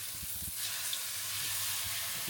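Honey glazed salmon fillets sizzling in a pan as they are flipped, a steady close hiss of frying with a few soft low bumps near the start.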